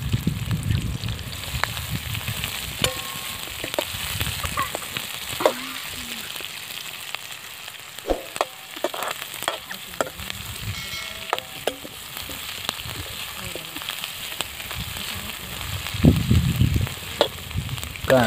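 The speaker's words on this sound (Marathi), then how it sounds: "कांदा चांगला असा बाजून आपल्या तेलामध्ये मस्त तळून घ्यायचा आहे." Chopped onion fries in oil over medium heat for a Maharashtrian onion and chana dal chutney, a steady soft sizzle broken by frequent stirring scrapes and clicks of a spatula, close by with no talking.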